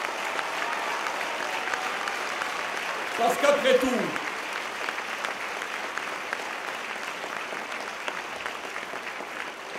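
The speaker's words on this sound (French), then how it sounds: "Et je vous demande de les applaudir" An audience at a political rally in Bastia, Corsica, applauds steadily throughout, a moderate wash of clapping that briefly swells as someone speaking into a microphone resumes over it.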